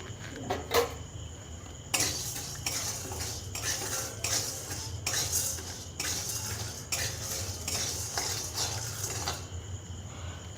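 Lentils and cinnamon dry-roasted in a pan on low heat, stirred with a metal utensil that produces rhythmic scraping and rattling strokes, close and fairly steady, with no voices.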